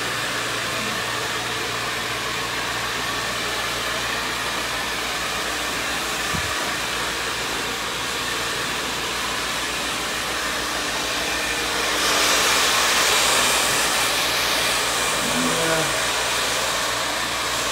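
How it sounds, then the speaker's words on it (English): A hair dryer blows steadily on a man's short hair during a haircut, the airflow held close and loud, its whoosh brightening and strengthening for the last few seconds as the dryer moves nearer. "I'm just blow drying circularly"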